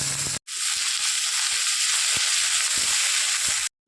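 Cumin seeds, bay leaf and chopped onion hit hot oil and fry with a steady, loud hiss and sizzle for a few seconds, with a few soft stirring knocks beneath, cut off abruptly at both ends.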